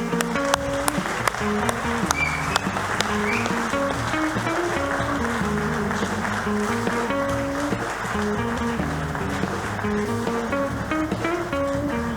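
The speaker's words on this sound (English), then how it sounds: "Please give him a big round of applause." Steady applause from an awards ceremony crowd fills the whole stretch, dense and continuous over a light background of music.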